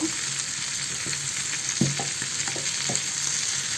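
Chicken pieces sizzle in butter in a cooking pan for a chicken kabsa biryani, a steady frying hiss with a few soft clicks and scrapes of stirring, heard alone without talk.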